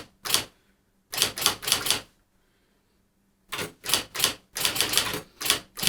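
An electronic typewriter types in quick clattering bursts of several keystrokes, close and fairly loud, with a silent pause between two groups of strikes.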